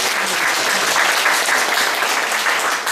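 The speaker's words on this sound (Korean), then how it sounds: "박수 한번 쳐주세요." An audience at a church gathering breaks into warm, steady applause, dense clapping from many hands sustained for a few seconds at moderate loudness with no talk.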